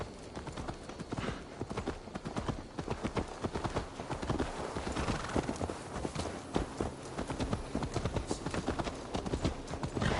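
Steady, rapid clip-clop of horse hooves in the video game Assassin's Creed Valhalla, continuous and fairly close, with a faint murmur of voices under the trotting rhythm.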